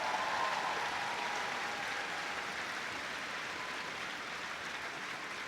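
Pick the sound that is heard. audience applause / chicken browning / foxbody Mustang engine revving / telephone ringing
audience applause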